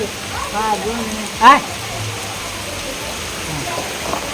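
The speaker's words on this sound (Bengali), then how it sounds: "বারান্দায় বসে আছে পপসি দেখো আর আমিও বসে আছি দিয়ে এখানে বৃষ্টির মজা নিচ্ছি" Steady rain falls outside a balcony, a soft, even hiss that runs throughout, with a few short voice-like sounds and one louder burst near the start.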